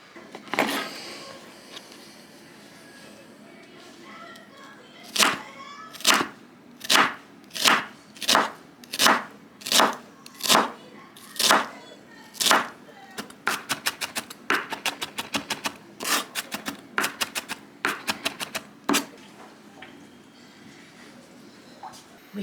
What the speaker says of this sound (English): we need to mince up a shallot